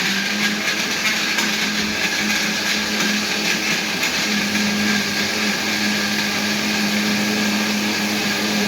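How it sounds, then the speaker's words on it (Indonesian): A kitchen blender grinds ginger and galangal for a red chicken dish, a steady loud whirring drone with a constant motor hum running the whole time, no voices over it. "Oke, sekarang kita blender."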